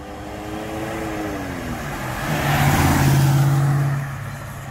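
A 1976 Holden Torana SS hatchback with a stock 5 litre V8 and four-speed manual runs close by, a deep rumbling idle that swells into a louder revving burst midway before settling back.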